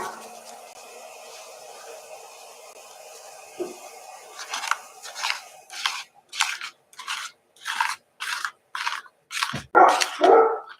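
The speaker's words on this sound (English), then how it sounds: "no bark" A dog barks in a run of about ten sharp, fairly close barks that start softly and grow louder toward the end, with faint room noise beforehand.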